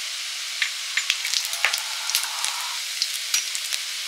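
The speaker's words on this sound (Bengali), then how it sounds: "ফোড়নে দিচ্ছি গোটা জিরে, তেজপাতা" Whole cumin seeds and bay leaf sizzle in hot oil for tempering a catla fish kalia, a steady bright crackle with scattered sharp pops, close and moderately loud, no voices.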